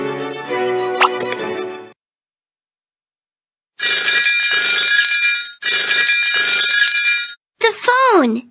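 A bright electronic phone ring from a Wonder Pets children's video game trills in three loud, even bursts after a short pause, followed by a cartoonish sliding tone, with spoken narration nearby.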